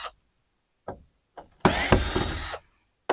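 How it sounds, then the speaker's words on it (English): A power drill backs screws out of a truck topper shell in one loud burst of about a second, with short scraping knocks before and after and quiet gaps between. "I'm going to go to removing all these screws"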